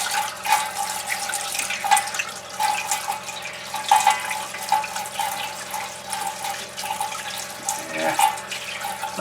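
Water drains steadily out of an appliance past a strainer, a continuous trickling gurgle with irregular drips and splashes, close and moderately quiet throughout.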